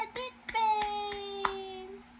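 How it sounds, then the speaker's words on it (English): Hands clap a handful of times in a loose, uneven beat, crisp and fairly close, over a sustained voiced tone at a child's outing. "Clap your hands, clap your hands"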